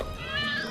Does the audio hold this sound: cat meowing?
yes